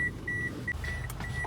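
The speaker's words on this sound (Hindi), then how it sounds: "ये तो एक बीप कर रही है" Repeated electronic beeps sound in a steady pattern of short and longer tones, fairly faint over a low background rumble.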